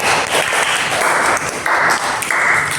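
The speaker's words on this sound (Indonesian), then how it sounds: "Berikan aplaus dulu untuk kita pada hari ini" A classroom full of students applauds in steady, dense clapping that stays loud and continuous from start to finish, with no voices standing out.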